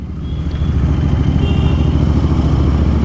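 A KTM Duke 390 and a TVS Apache RR 310 ride through the city, and their engines give a steady, close, loud rumble with no talking.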